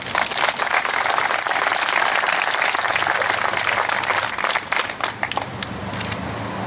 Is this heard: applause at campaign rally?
yes